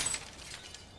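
A glass coffee table shatters in a burst of bright, crackling breakage that fades into scattered tinkling shards over about a second, heard alone.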